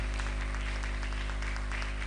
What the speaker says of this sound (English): So, with a round of applause, let's welcome Honorable Patricia Appiagyei,